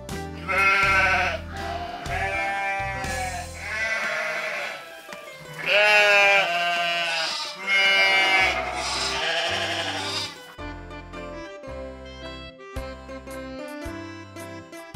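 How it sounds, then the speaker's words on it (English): Several sheep bleat in a series of loud, wavering calls, some overlapping, with short pauses between them, followed by a quieter run of short tonal sounds near the end. "Sheep."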